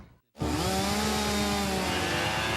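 A Steel FS38 gas-powered trimmer engine starts up and revs loudly with a buzzing, rattling drone that holds steady after a brief quiet moment.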